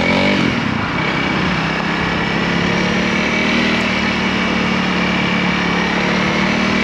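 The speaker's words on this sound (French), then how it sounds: "première, et on est parti pour un petit test de cette moto." Honda CRF 300L single-cylinder motorcycle pulling away in first gear, a loud, close, steady buzzing engine note that holds at an even pitch throughout with little variation.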